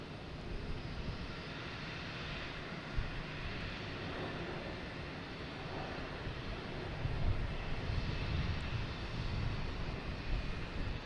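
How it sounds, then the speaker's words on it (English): A JetBlue Airbus A321neo jet arriving at Boston Logan Airport produces a steady, distant broadband roar that swells slightly, with light wind noise and no talking. "Here's JetBlue coming in from Heathrow. A321neo."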